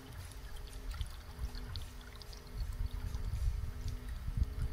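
Antifreeze coolant drains out of a car radiator in a faint, uneven pouring trickle with small gurgles and splashes that build a little toward the end.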